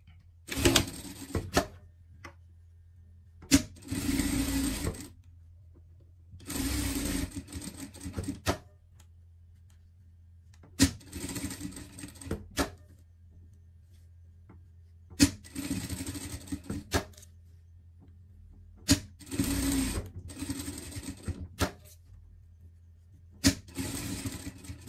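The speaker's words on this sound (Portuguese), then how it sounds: "Passar uma costura de segurança." A sewing machine stitches a safety seam on a garment, running in loud mechanical bursts of a few seconds each, separated by short pauses, with no talking.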